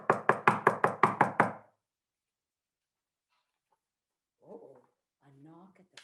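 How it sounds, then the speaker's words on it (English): Seven quick, sharp knocks strike a front door in an even rhythm, close and loud, then stop; after a silence, faint voices murmur briefly. "there was a knock at the front door"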